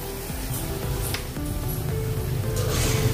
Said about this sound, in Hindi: ऐसे उलट पलट के इसको तलना है